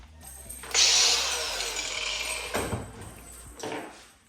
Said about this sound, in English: what I'm going to do is basically just chop this with the grinder